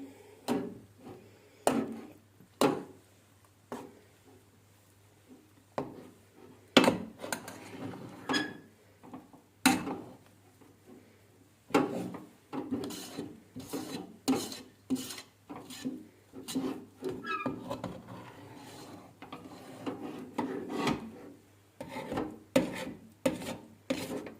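Stiff malağ köle dough being stirred and scraped in a pot: rhythmic rasping, rubbing strokes against the pot bottom, close and moderately loud, steady at first and then quicker and more continuous.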